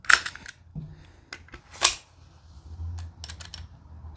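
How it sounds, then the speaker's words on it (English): Sharp mechanical clicks and clacks from working the magazine release on a Shield Arms 43X pistol loaded with a factory magazine that will not drop, a few distinct close handling snaps with quiet gaps between them. "When I hit the mag release, it will not drop."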